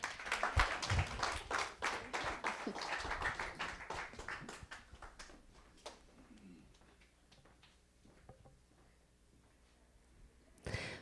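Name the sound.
congregation applause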